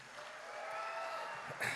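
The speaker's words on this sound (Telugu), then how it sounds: "అందరూ ఒకసారి తనకి క్లాప్స్ కొట్టండి" An audience at a Telugu film pre-release event claps together in a brief, fairly distant burst of applause that swells slightly toward the end.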